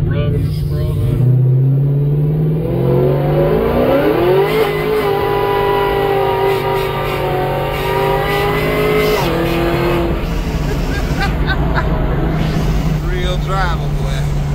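A 1970 Chevy C10 truck with an LT4 engine or a 1971 Chevelle Malibu with an LT5 engine revs hard through a burnout, its engine note rising and falling in long sweeps. People talk over the loud, continuous roar.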